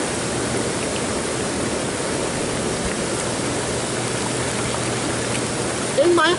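Hot tub water bubbling and churning in a steady, loud wash of noise that fills the whole clip, with a faint brief sound near the end.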